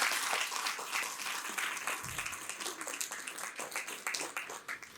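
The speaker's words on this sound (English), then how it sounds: "So we need to give her a bigger round of applause." An audience at a university talk breaks into sustained applause, a dense wash of many hands clapping that carries on steadily throughout.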